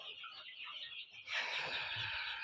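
Young roosters penned together for fattening give faint chirps and cheeps, then a denser, brighter burst of calling swells up midway and carries on steadily.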